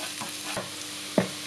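Chopped onion and garlic sizzle in hot cooking oil in a pan, a steady close hiss with a few brief crackles and one sharper pop near the end, with no talking.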